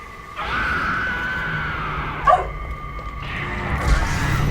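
A dog barking in The Evil Within DLC horror game, a sustained whining, yelping cry with a sharp spike partway through, heard over a continuous game background drone.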